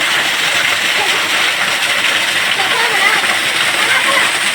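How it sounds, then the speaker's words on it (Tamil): Water gushes down at Kayilai Waterfalls as a dense, steady, loud broadband rush that stays constant throughout, with no distinct voices rising above it. "எங்கேயாவது தண்ணி ஃபோர்ஸாக வந்துட்டுருக்கு பாருங்கள்."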